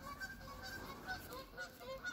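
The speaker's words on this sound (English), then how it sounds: "the noisy, obnoxious geese" Geese honk repeatedly outdoors in a loose, irregular series of calls, moderately distant and fairly quiet over a soft background hiss, with no talking.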